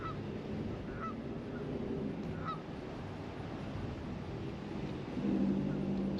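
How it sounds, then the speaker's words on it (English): Geese honk in short scattered calls at a distance outdoors, a few distinct honks over a steady low rumble of wind and background noise, with a low hum entering near the end. "So many geese out here today."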